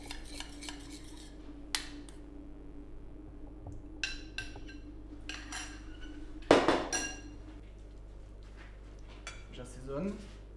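Utensils clink against a bowl while grated rutabaga salad is dressed with citrus vinaigrette, giving scattered light taps and a sharper clatter near the middle over a steady low room hum.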